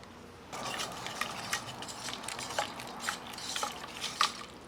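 Cream being stirred into milk bread dough for a maple milk bread, giving a soft, steady wet scraping with a few sharper clinks of utensil against bowl, close and fairly quiet, no talking.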